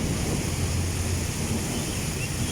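Strong, gusty wind in heavy rain after Typhoon Carina buffets the microphone with a dense roaring rush, loud and continuous, with no voices.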